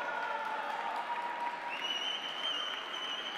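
Steady applause from the audience at a school robotics competition award ceremony, an even wash of clapping with a couple of sustained tonal sounds layered over it.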